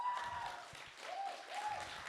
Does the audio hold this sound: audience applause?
yes